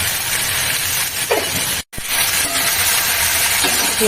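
Ginger and onion paste stirred in hot oil for a fish curry, a loud close hiss and sizzle that cuts out for a moment, then returns just as strongly.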